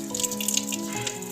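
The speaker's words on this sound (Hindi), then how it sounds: "ये है त्रिकुटी का झरना, जो अब इसमें थोड़ा सा एक नल लगा दिया है" Water from the Trikuti spring on Trikut mountain runs out of a tap fitted at the spring, a close, steady trickling and splashing with bright spattering over a faint tonal hum.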